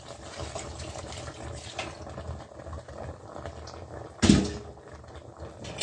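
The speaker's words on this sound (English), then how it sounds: "Again, we get some water and pour it on top of it." Water being poured over meat in a hot pan gives a continuous close hiss and sizzle, with one sudden louder splash near the end.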